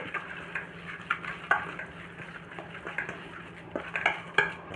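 Bread crumbs and cornflour mixed in a bowl for stuffed cheese kababs: a spoon clinks and scrapes close up, with scattered taps in an uneven rhythm and no voices.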